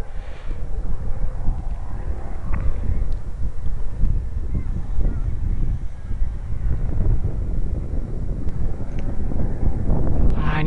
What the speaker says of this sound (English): I need those wind gusts.